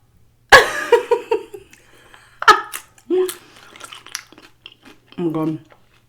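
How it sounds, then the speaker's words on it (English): A loud, sudden sneeze bursts out near the mic, followed by a few quieter vocal sounds and laughter-like bursts with silent gaps between. "My husband sneezes so outrageously loud, it's ridiculous."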